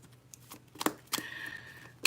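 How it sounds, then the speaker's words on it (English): Playing cards are shuffled by hand during an astrology tarot reading, producing a few soft, quick riffling ticks and snaps close by at low volume. "You see me shuffling on camera, right?"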